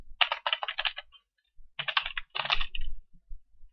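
Typing on a computer keyboard, with rapid bursts of clicking keystrokes in two clusters separated by a short pause, close and crisp, with no speech.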